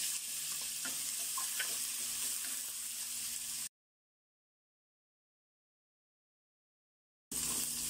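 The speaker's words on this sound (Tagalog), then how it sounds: "magigisa na tayo" Garlic and onion sautéing in hot oil for a Filipino beef kare-kare, a steady close sizzle with a few soft stirring clicks, cutting to silence midway before the sizzle returns.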